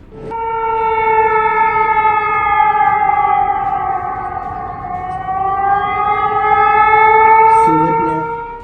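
A loud civil defense siren wails steadily, its pitch dipping and rising again in a long sustained drone.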